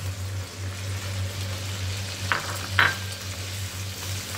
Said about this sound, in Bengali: এদিকে মাছটা ভাজতে নিয়েছি